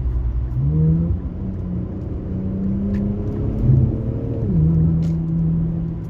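Infiniti Q60 car engine fitted with an AAM exhaust mod, a steady low rumble with tonal engine hum that rises and shifts pitch as the revs change, continuous and close, with no talking.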